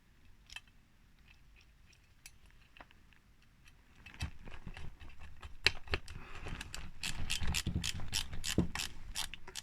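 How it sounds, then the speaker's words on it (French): A plastic casing being screwed together with plastic screws gives a run of close ratcheting clicks that start sparse and faint, then turn louder and denser halfway through, with no voices. "Et on va visser l'ensemble."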